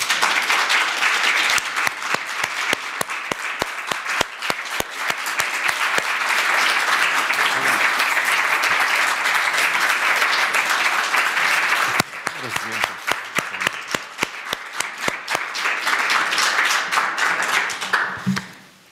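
Sustained audience applause at an award ceremony for a prize laureate, dense steady clapping lasting almost twenty seconds with a brief dip partway through, close and loud, with faint voices underneath.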